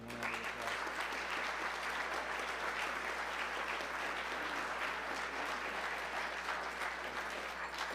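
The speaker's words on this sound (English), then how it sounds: "Let's give them a round of applause." Audience applause for team members at an open house live broadcast, steady dense clapping from a crowd filling the whole stretch at an even level, with a low constant hum underneath.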